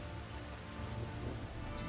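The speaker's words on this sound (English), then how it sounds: "And it's raining." Steady rain patters down in Final Fantasy XIV's Lakeland, a dense, even hiss of drops on surfaces that holds at a constant level throughout with no voices.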